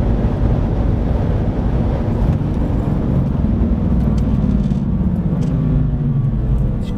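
A Subaru Impreza WRX STI, 308 hp, runs flat out near 200 km/h on the rev limiter at Fuji Speedway, a loud, steady engine drone mixed with heavy wind roar that holds constant throughout.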